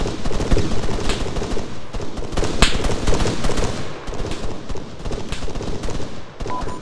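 Dense, loud gunfire from enemies in an Arma video game firefight on a hillside, continuous rapid bursts and single cracks crowding together with barely a pause.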